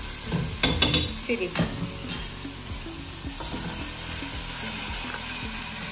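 Vinegar and soy sauce cook in a pan for Singapore noodles, giving a soft, steady sizzle under a few sharp metallic clinks and scrapes of stirring early on.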